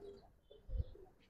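A pigeon gives a soft, low coo, one brief muffled call rising above quiet background hiss.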